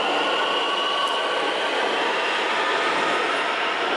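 A Berlin S-Bahn commuter train rumbling past at close range, a steady loud roar of wheels and motors filling the whole stretch before cutting off abruptly.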